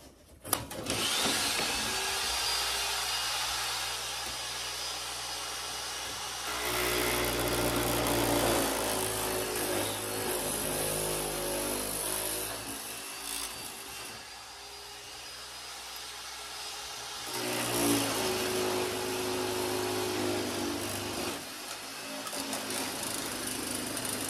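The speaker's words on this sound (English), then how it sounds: "the shear is actually a handheld power shear that you hold and go through the metal" A handheld power shear, clamped upside down in a vise, cuts a sheet-metal patch for rust repair, giving a loud, steady motor whine that swells and dips in bursts as the blades chew through the metal, with no talking.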